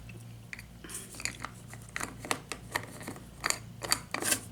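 Scissors snip through paper pieces up close, making a series of crisp, irregular cuts that quicken toward the end, with no talk.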